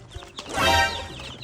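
Young chicks whose colored feathers have faded as they grow up chirp in a close, rising cluster of high peeps lasting about a second and a half, with fowl clucking underneath.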